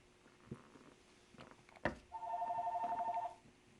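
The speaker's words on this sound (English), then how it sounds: "Oh, like how the phone's ringing like nothing today." A telephone rings indoors at moderate volume, a single warbling electronic ring cycle of about a second, after a sharp click and light handling noise.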